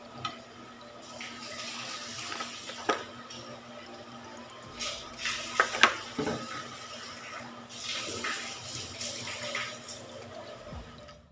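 Water is mixed into thick, risen dosa batter in a bowl, making soft intermittent splashing and sloshing bursts with quiet gaps between them and no voices.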